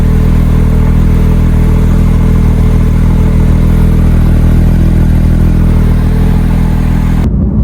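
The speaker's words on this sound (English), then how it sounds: "There's that exhaust that we all love to hear." A Porsche GT3 engine roars loudly and steadily with a deep rumbling exhaust, cutting off abruptly at the end.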